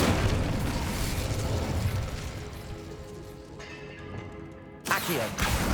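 Incendio fire spell blast in Hogwarts Legacy on PS5, a dense burst of roaring flame and booming impacts that fades midway, then a sharp new blast near the end over a continuous game soundscape.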